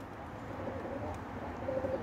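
Pigeons cooing nearby, soft low throaty coos over a quiet background hiss, with a clearer run of coos near the end.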